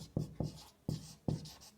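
A pen scratches across paper in four distinct bursts while someone works through a Class 10 maths problem, the strokes close, dry and evenly spaced, with no talking.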